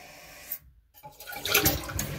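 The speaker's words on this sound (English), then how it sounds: "as soon as we flush it the first time, the cylinder will drop into place" A Kohler Cimarron toilet flushes: a brief pause, then a loud rush of water that swells into a steady wash as the tank refills, with no talking.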